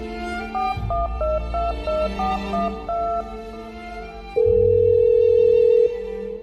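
A series of quick two-tone keypad beeps dialing a number, followed by a single long steady tone, heard clearly with no talking.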